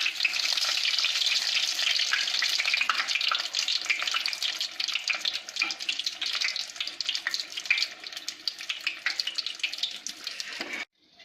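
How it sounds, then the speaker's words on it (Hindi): Malpua batter rounds fry in hot oil with a dense, steady sizzle that stays loud and crackly throughout, then cuts off sharply near the end. "मालपुआ दोनों तरफ से फ्राई हो गया"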